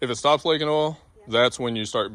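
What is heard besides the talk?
No distinct noise like a dog, phone or traffic.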